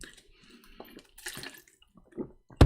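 Water poured for drinking: soft splashing and trickling comes in irregular bursts, ending in a louder close gush, with faint background voices.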